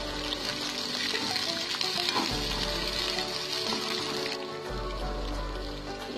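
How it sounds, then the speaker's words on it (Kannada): Seeds frying in a pan while making bisibele bath give a steady, dense sizzle close by, continuous through the clip with slight crackling and a low background hum that shifts partway. "ಮತ್ತೆ ಬೀಜ ಹಾಕಿ ಚೆನ್ನಾಗಿ ಫ್ರೈ ಮಾಡ್ಕೊಳ್ಳಿ"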